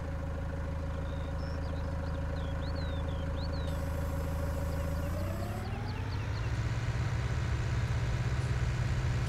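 A tractor in Farming Simulator 19 with double wheels runs steadily, a droning engine hum that shifts and rises in pitch partway through as it works, alone with no talk.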